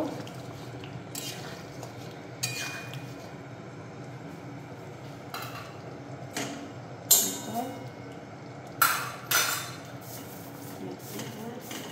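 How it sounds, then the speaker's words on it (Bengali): A lid comes off a cooking pan and paneer is stirred, giving a few soft metallic clinks and scrapes amid quiet, wet kitchen sounds, heard close up under a voice. "পনিরটা এখন আমি ঢাকনাটা খুলে দিচ্ছি। খুলে দিয়ে একটু নাড়িয়ে নেব।"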